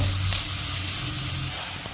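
Onions sizzling and being stirred by hand in a hot pan for a mussel (kallummakkaya) roast, a steady close frying hiss with faint scraping, no talking.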